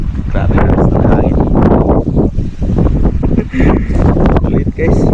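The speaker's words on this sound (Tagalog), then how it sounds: "Grabe na sa hangin." Strong wind buffets the microphone in heavy, continuous gusts on an outdoor fishing trip by the water, with people talking underneath the roar.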